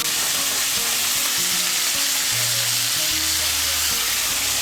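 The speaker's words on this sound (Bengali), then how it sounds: "গাজর আর বিনসগুলোকে মিশিয়ে নেব তেলের সঙ্গে।" Carrots, beans and cauliflower sizzle steadily in hot oil while being stirred, with close, continuous frying crackle and soft scraping stir strokes, no voices.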